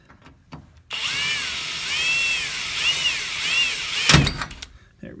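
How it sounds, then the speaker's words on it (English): Close, loud whine of a power drill boring a pilot hole for a Mustang ghost light install, running steadily for about three seconds with the pitch rising and dipping, followed by a clunk as it stops. "we're going to get another bit to drill our pilot hole with"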